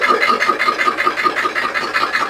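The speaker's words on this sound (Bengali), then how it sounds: "ইঞ্জিনের সাউন্ড ভালোই রয়েছে।" A vehicle engine idles close by, a steady mid-pitched chugging with an even, rapid pulsing rhythm and no voices.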